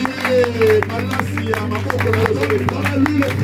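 At an Easter church celebration, the congregation claps in quick repeated bursts and calls out acclamations, crowd voices and sustained low drone running underneath throughout.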